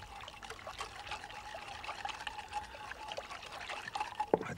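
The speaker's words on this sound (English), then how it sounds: "Right, next, a little bit of wine vinegar." Wine vinegar trickles into a pot of almond soup, a thin, steady liquid pour with light splashing that continues for several seconds at close range.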